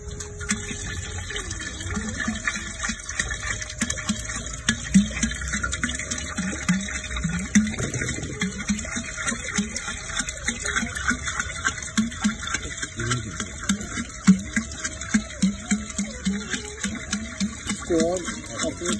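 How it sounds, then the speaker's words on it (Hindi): Fresh cow urine poured from the speaker's own cow shed into a homemade organic compost mix, a steady close trickle and gush of liquid running the whole time beneath ongoing talk. "अब और इसमें बाकी थोड़ा गौमूत्र डाल दीजिए और उसे भर दीजिए"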